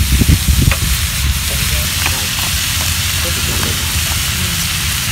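Garlic and half a kilogram of minced beef fry in a pan with a steady, close sizzle, broken by occasional scrapes and clatters of stirring, heaviest in the first second.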